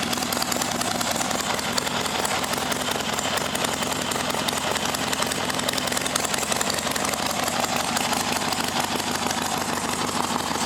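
A motorcycle engine fitted with a Morris magneto ignition runs steadily with a dense, rattly mechanical clatter, loud and close, with no talking.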